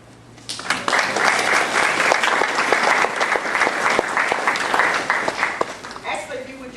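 Audience at a Lynn community candidates' forum breaks into sustained applause, dense clapping that starts abruptly, stays loud and steady for several seconds, then tapers off as a voice begins speaking.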